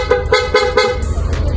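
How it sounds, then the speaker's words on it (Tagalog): A Yamaha NMAX V3 scooter horn honks four times in quick, even succession, loud and close, followed by a brief rushing noise. "Okay, switch sa PIA horn."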